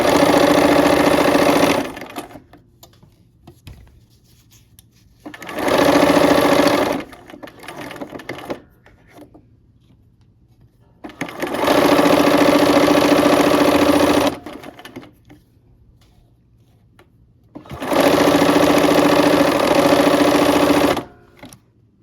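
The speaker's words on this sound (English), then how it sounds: "we're at the machine, and let's go ahead and sew those pieces together" A sewing machine stitches quilt block pieces together for a quilt block, running in four loud bursts of rapid whirring and needle chatter separated by quieter pauses with light handling sounds.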